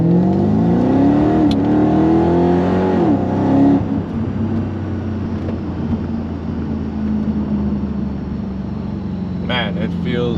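Mercedes CLK55 AMG with a swapped M113K supercharged V8 pulling hard from inside the cabin, a loud rising engine note that drops back to a steady drone, with a person talking over the start.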